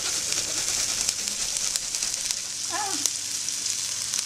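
Spices and grated turmeric sizzle and frying in a hot pan with a loud, constant hiss and scattered small pops close at hand.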